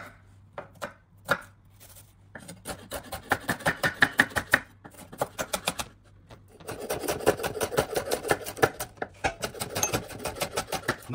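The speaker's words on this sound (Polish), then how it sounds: "Cebulę posiekam drobno." Knife chopping onion finely on a board, a steady run of quick close cuts that pauses briefly and then speeds into dense rapid chopping.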